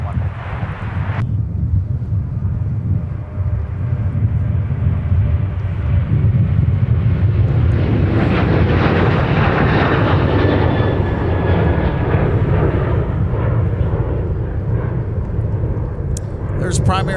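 A heavy Delta airliner bound for Paris takes off from Minneapolis–Saint Paul airport, a loud jet engine roar that swells and holds steady with wind buffeting, while a voice talks over it.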